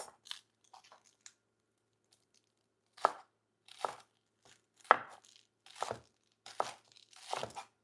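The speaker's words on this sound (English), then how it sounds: "I'm gonna just thinly slice. That's why I love this knife, because I can get those really thin slices" A sharp knife slices thin pieces of salmon for a poke bowl, a series of brief crisp cuts spaced about a second apart after a quiet opening, close and clear with no talk.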